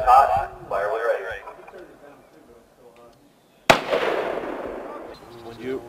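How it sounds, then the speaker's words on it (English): M16 rifle gunfire on a military weapons qualification range: one sharp, loud crack rings out partway through and trails into a long echoing decay, after earlier stretches of voices and range chatter. "Fire light is hot. Fire when you're ready."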